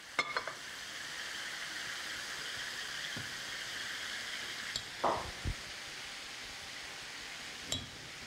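Small kachki fish frying in a pan give off a faint, steady sizzling hiss throughout, with a few soft clinks and brief stirring sounds; no one speaks.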